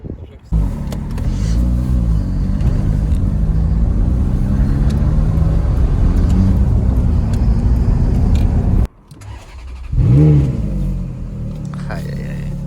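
A Ferrari F430 V8 idles with a loud, close, burbling rumble, then cuts out briefly before a sharp rev swells and settles back, with someone talking over the engine in places.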